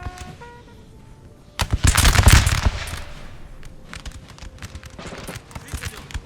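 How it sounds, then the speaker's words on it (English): Musket volleys from a Napoleonic battle in the NTW3 strategy game, infantry firing uphill through woods: a loud burst of massed crackling shots around the two-second mark, then a scatter of sharper single cracks, with a faint tone in the background. "Better to return fire."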